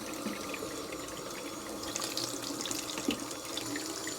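Tap water runs steadily into a baby bath being filled, a continuous close splashing stream with no voices over it.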